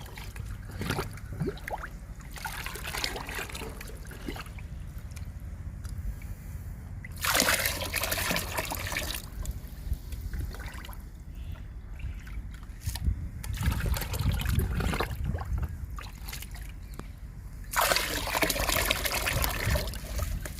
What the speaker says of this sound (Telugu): ఈ బకెట్లో రెండు పోసానండి బొప్పాయి లిక్విడ్